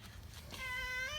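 A cat gives a single drawn-out meow in a garage, rising and sustained over a quiet background, fairly close and alone.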